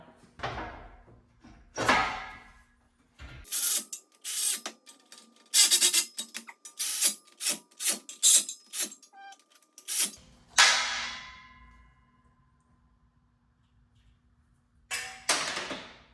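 Metal clanks, knocks and rapid clicking bursts come from car engine headers being fitted with a ratchet in a garage, loud and close, with sharp impacts and quieter gaps between.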